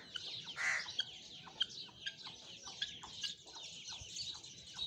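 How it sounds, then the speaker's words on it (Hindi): Chickens kept on a farm that also raises chakor partridges, clucking and chirping close by in a quiet, busy stream of short calls, with no talking. "और ये हमारी मुर्गी, और ये जो हमारी बड़ी वाली मुर्गी है जो पहले वाली थी।"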